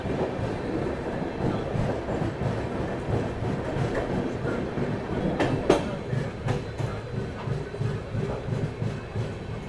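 Steady rumble and rattle inside the 12286 Secundarabad Duronto Express as it runs through Mathura junction without stopping, with continuous wheel clatter and a sharp metallic clank partway through.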